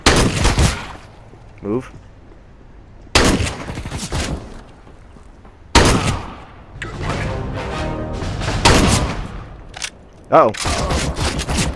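Game gunfire in Counter-Strike: Global Offensive, with several sharp bursts of shots spread through the round, some close and loud, mixed with a player talking briefly between them.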